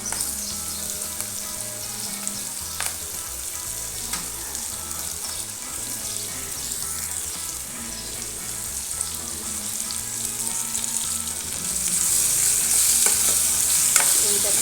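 Potato pieces fry in a pan with a steady, dense sizzle, and occasional scrapes from stirring run through it. The sizzle swells slightly louder near the end, and no one speaks.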